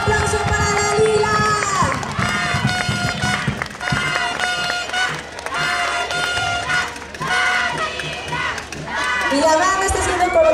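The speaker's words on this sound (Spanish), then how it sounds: "¡Fuerte el aplauso para Dalila!" A crowd at a queen election and coronation cheers and applauds for Señorita Simpatía, loud sustained clapping and shouts mixed with voices, and children yelling throughout.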